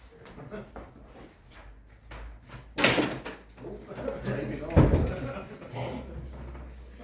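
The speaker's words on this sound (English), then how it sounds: "May I now suggest we conserve the heat and close the door?" A meeting room door is closed during a council finance meeting, giving a sharp thud partway through and another bump later. Room noise, shuffling and talk surround it.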